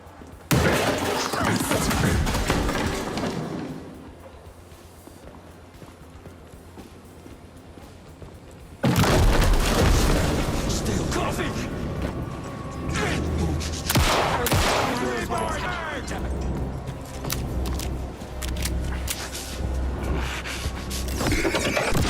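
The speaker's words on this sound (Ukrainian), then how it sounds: "Постріли та звуки перезаряджання зброї, здається, виконані на дуже високому рівні." Gunfire and weapon reloading from a video game trailer shown at Summer Game Fest 2023 for a game coming to Xbox Series and PlayStation 5: loud, dense bursts of shots, metallic clatter and thuds with a quieter lull between.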